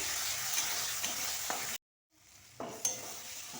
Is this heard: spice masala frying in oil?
yes